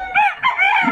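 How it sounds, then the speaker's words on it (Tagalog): A rooster crows once, close and clear, a short rising-and-falling call among a flock of chickens at a farm. "napakarami na namang mga manok oh"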